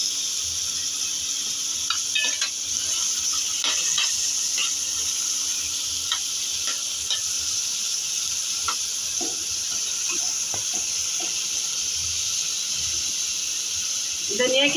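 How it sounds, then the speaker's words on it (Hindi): Tomatoes and salt going into a hot pan for a Kokani-style dried Bombay duck, potato and drumstick gravy, with a steady loud sizzle and hiss and occasional small stirring clicks throughout. "अभी हम टमाटर डालेंगे। थोड़ा नमक डालेंगे"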